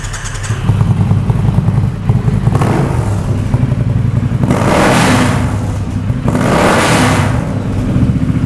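A Triumph Thruxton R 'deBolex Special' motorcycle revs close by, with loud throttle blips swelling and falling over a rumbling idle, repeated twice and unaccompanied by talk.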